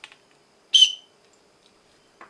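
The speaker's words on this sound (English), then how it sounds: "a peeless whistle," A single short, sharp blast from a pealess whistle rings out alone in near silence, with faint small clicks before and after.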